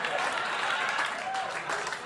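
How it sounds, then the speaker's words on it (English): Comedy club audience applauding during a live stand-up set, a steady dense wash of clapping with a brief high whoop rising over it, fairly close and continuous throughout. "And judging by your applause and your weird Arsenio Hall whoop that you just did,"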